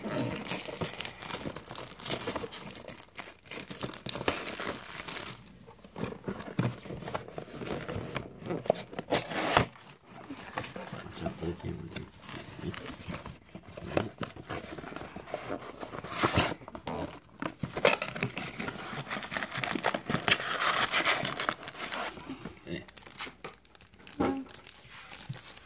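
A giveaway package is cut open and unwrapped, with steady close crinkling and tearing of plastic and paper plus some rustling handling that runs throughout.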